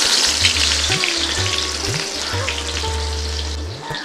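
Onions frying in hot oil with cumin seeds, a steady loud sizzle with rhythmic scraping as they are stirred in the pan, no voices.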